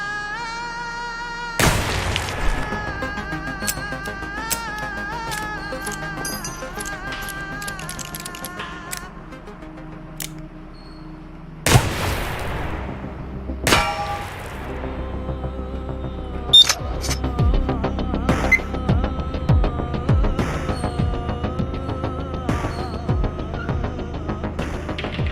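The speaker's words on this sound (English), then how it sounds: "Let's see if we can ricochet a bullet into this thing." Gunshots in an ultra realistic gun simulator video game: a few loud, sharp single shots separated by long gaps, with ringing metallic tails and clicking handling noises in between.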